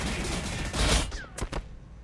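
Gunfire from the strategy video game Warhammer 40,000: Battlesector, Astra Militarum forces opening up with a dense burst of shots that swells and then cracks out in a few sharp, loud reports before fading.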